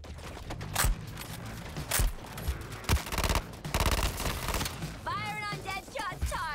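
Repeated bursts of gunfire ring out in Suicide Squad: Kill the Justice League, loud sharp volleys with a rapid stretch of fire midway, over game sounds and a brief synthetic voice near the end.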